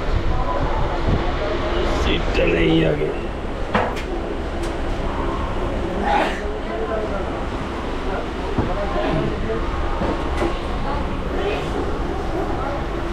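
A 6:20 Panskura local train departing Howrah station rumbles steadily throughout with broadband rail noise and occasional clatter, while a person talks over it.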